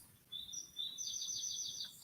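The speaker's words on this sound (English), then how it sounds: "Got some birds outside this morning." Birds sing outside in the morning, a faint string of high, quick chirps and trills repeating over a quiet background.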